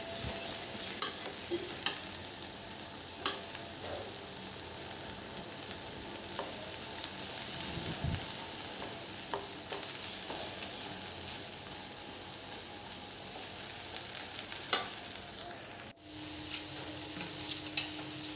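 Okra (lady's finger) dry-sautéed in a pan without oil gives a steady, close sizzle, with sharp spatula scrapes and clicks recurring every few seconds and no talking.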